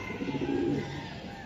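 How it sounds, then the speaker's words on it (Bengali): Soft, low cooing of a racing pigeon nearby, a brief murmuring coo over a dull background hum. "অনেক সুন্দর কবুতর"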